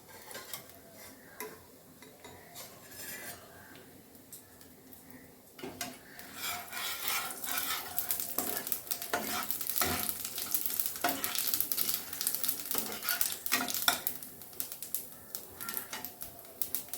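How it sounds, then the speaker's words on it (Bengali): Black cumin seeds sizzle in hot mustard oil for a Bengali rohu fish curry, a dense crackling hiss that grows louder partway through, broken by scraping strokes of stirring close by. "আমি একটু কালো জিরে ফোড়ন দিচ্ছি।"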